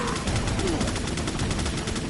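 A minigun in Resident Evil 4 fires a dense, unbroken rattling burst of rapid shots, loud and close, lasting about two seconds.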